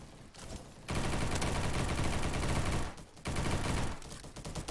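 An XK-416 rifle fires in a video game as dense, continuous bursts of automatic fire, loud and close, with a short pause between two long strings of shots.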